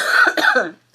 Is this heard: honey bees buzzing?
no